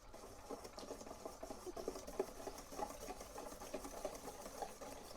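Milk is whisked quickly into egg custard for rhubarb and goji berry ice cream, giving a rapid, steady, close-up rattling churn of whisk against bowl that carries on evenly without any talk.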